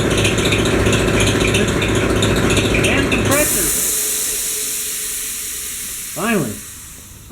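Air compressor in a workshop during a KTM 50 top-end rebuild, running loudly with a steady rattling drone that cuts off abruptly, then fading hiss and a couple of brief squeaky bursts afterward.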